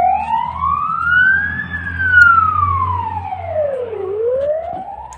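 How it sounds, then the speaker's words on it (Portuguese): An ambulance siren wails loudly in long rising and falling sweeps over a low rumble of traffic, arriving near a town after a Russian attack, with no voices. "Parece que foi um monte de ambulância indo para Yurívica lá."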